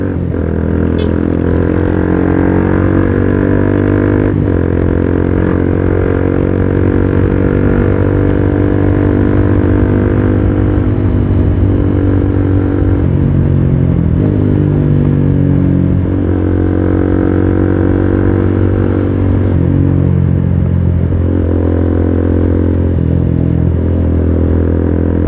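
Suzuki Gixxer SF250 motorcycle being ridden on a road, its engine droning loud and steady throughout with shifting pitch as the rider eases the throttle and changes speed, heavy wind rumble underneath.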